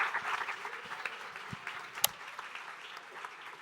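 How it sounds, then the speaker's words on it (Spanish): Audience applauding guests at the close of a Spanish-language after-office talk event on Ecuador's constituent assemblies, a moderate spread of clapping with some louder individual claps, fairly even throughout. "Con esto quiero pedirles un fuerte aplauso a nuestros invitados del día de hoy"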